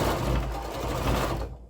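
Domestic sewing machine stitching a checkered quilt border, a steady close motor whir with rapid rhythmic needle thumps that stops abruptly near the end, no talking.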